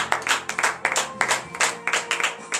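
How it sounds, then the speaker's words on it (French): A church congregation claps in a quick, uneven rhythm during morning prayer, energetic and fairly close, with faint voices and cheers mixed into the applause. "Donnez de vive acclamation à l'Éternel."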